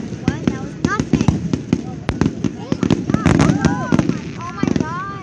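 Fireworks bursting in rapid irregular bangs and crackles, several whistling tails rising between the blasts, loud and fairly close, with voices reacting underneath.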